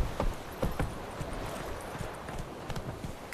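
A horse's hooves clip-clop at an uneven walking pace in The Witcher 3, soft and fairly distant, with a few sharper knocks early on.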